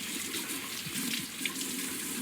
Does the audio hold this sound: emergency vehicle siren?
no